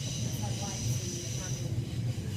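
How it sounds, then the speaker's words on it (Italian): A London Overground train riding on its rails, heard from inside as a steady rumbling drone with a constant high whine over it, loud and continuous, while a voice speaks quietly in the carriage. "L'Overground è una delle metro più nuove di Londra."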